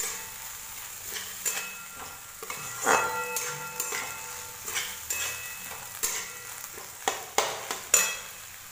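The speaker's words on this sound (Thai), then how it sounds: "ผัดเครื่องเทศดีแล้วนะคะ ใส่ถั่วไป เลยค่ะ" Mung beans are stirred and fried with spices in a pot for Indian dal, giving a soft steady sizzle broken by repeated scraping and clanking strokes of the spoon against the pot, close up with no talk.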